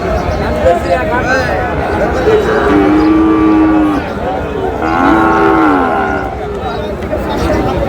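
Cattle, including Sahiwal bull calves, moo loudly in long drawn-out calls amid the steady murmur of a crowd at a busy livestock market in Dinajpur, with people chattering throughout.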